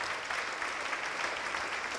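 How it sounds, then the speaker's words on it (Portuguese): A church congregation applauds in praise, a dense, steady wash of clapping that fills the whole moment with no voices standing out. "vamos aplaudir ao nome do Senhor."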